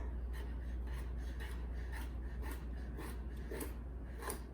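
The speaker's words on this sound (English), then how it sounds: "You're just gonna cut this, and you can cut this kind of coarse." Knife coarsely chopping a rinsed, peeled carrot for a black bean burger, a steady series of soft, close cuts with a rasping edge over a constant low hum, no talking.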